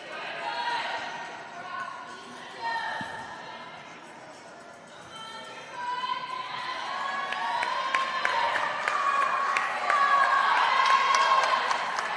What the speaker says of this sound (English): Sabungian drawing a huge round of applause there